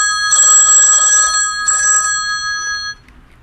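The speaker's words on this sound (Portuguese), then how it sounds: "Eu vou ter que atender o telefone aqui que está tocando" A telephone rings indoors in two electronic bursts, the first longer than the second, loud and close with no talk over it, during a Brazilian podcast recording in Cascavel.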